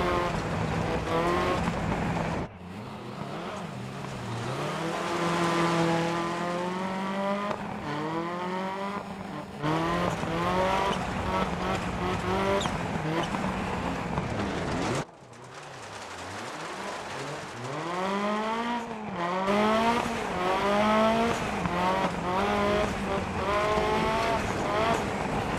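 A Lancia Delta Integrale rally car is driven hard in DiRT Rally, its engine revving up and down through repeated gear changes, with rising and falling whines and brief tire noise over about twenty-five seconds.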